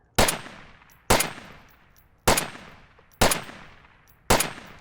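Marsoc Rifleman gun in a video game fired with iron sights, five loud, sharp single shots spaced about a second apart, each followed by a decaying echoing tail, with no talking.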